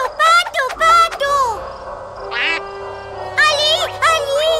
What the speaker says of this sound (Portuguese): Pato! Pato! Pato!